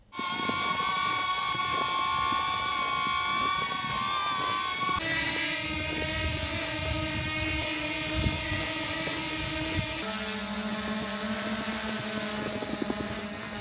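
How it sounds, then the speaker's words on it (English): A steady high-pitched propeller whine from small DJI Flip drones hovering close by, the pitch and tone shifting twice as a different drone takes over. "including the actual sound and noise coming from each of these drones"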